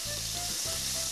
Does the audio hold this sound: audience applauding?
no